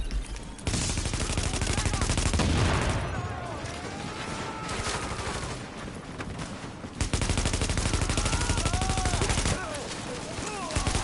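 Sustained automatic gunfire in The Division, with bursts hitting supplies, dense and close over the full stretch, broken by a short lull midway, with a voice talking underneath.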